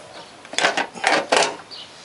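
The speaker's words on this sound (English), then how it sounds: "My ratchet broke here. This just spins." A broken ratchet spins freely on a 2000 Toyota Corolla spark plug job, giving three quick bursts of rapid metallic clicking, close and fairly loud, with no talk.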